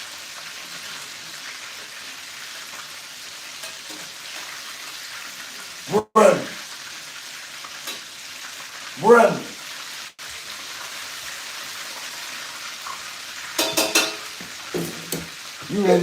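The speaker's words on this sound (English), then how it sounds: "I want to go and finish frying this chicken" Chicken frying in a pan in a home kitchen, a constant soft sizzle running throughout beneath occasional brief voices and a few sharp clatters and utensil taps.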